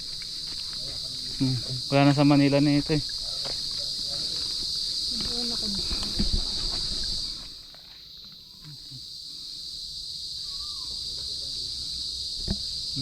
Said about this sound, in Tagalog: Nakakamiss makarinig ng mga huni ng kuliglig.